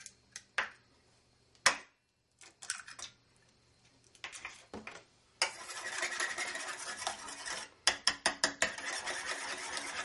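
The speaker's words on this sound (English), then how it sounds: "Whisk those up." Eggs and flour whisked together in a pan for coating frog legs, heard as bursts of rapid scraping and ticking, sparse at first and then a dense, steady whisking stretch broken by short pauses, close and alone.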